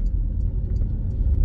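Steady, loud low rumble of a car on the road to Fuentes Georginas, heard close and continuous with no clear rise or fall of a pass-by and no talking.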